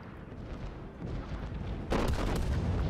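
Battleship main guns firing in World of Warships: heavy booming blasts, the last and loudest arriving near the end, over a rumbling, noisy battle background with no voices.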